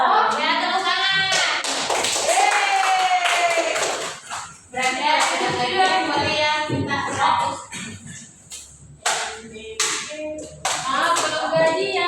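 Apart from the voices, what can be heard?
clapping hands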